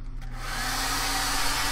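A hair dryer blows steadily and loudly on a wet art journal page. It starts up in the first moment and then holds a constant whooshing roar alone.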